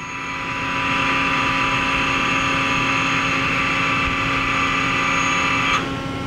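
Mori Seiki NL-3000Y/1250 CNC lathe with its live tool spinning at high RPM, a loud steady mechanical whine with a sustained drone that cuts off sharply near the end.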